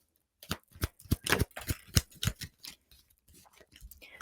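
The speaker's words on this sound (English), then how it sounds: "I know you can't see me shuffling" Tarot cards being shuffled by hand, a run of crisp riffling flicks and soft slaps in an uneven rhythm, close and fairly quiet, with no voices.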